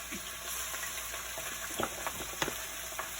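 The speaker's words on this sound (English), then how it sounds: "this is going to deep fry" Chicken curry frying in oil in a Dutchie pot over low heat, a faint, close, steady crackling sizzle with a few small pops and bubbling bursts, no voices.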